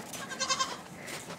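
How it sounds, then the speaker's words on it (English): A Pygora goat buck gives a short, faint, wavering bleat at some distance outdoors, a single brief call over light background hiss. "Thor is the Pygora"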